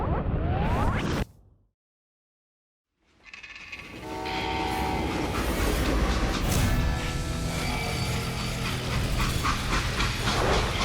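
A loud rumbling train with a sounding horn, a sudden gap of silence, then the rolling clatter and horn of a passing freight train returning steadily, from the video game Call of Juarez: Gunslinger.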